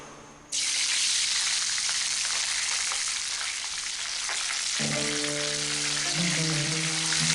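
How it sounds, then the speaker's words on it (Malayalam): Capsicum shallow-frying in a little oil for Arabian chicken maqluba, with a loud, steady sizzle that begins abruptly after half a second and holds throughout. A sustained tonal layer joins it in the second half. "ക്യാപ്സിക്കം ഫ്രൈ ചെയ്തെടുക്കാൻ ഒരുപാട് ഓയിലൊന്നും വേണ്ട, ഷാലോ ഫ്രൈ ചെയ്തെടുത്താൽ മതി"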